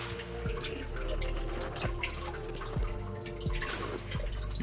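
Water drips and trickles steadily while a pet reptile is given a drink in an indoor reptile room, with several distinct louder drops landing at irregular intervals over a continuous wet background.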